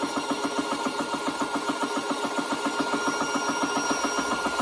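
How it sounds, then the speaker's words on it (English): An Umarex air compressor runs steadily and close by, its motor thumping in a fast, even pulse beneath a constant hiss, with no talking over it. "Got a compressor and it moves up and down, so it's gonna rock quite a bit."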